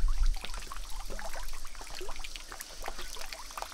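Clear mountain river running over big boulders in a Meghalaya valley, a steady rushing and trickling stream with brief splashing, close and moderately loud with no talk.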